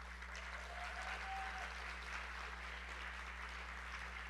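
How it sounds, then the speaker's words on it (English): Sustained, even crowd applause at a business design keynote fills the whole stretch at a moderate distance, a dense steady patter with a low hum beneath and no break. "can we give them a round of applause?"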